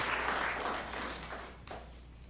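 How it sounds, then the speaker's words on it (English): Public audience applauding at a town planning and zoning commission meeting, a brief burst of scattered clapping that starts fairly full and thins out toward the end. "I'm permitting the applause with a little bit of cringing here"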